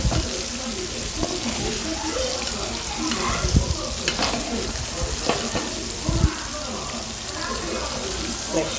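Fresh gooseberries frying in oil for a pickle, crackling and sizzling steadily with occasional scraping stirs of the pan, close and fairly loud, with no talk over it.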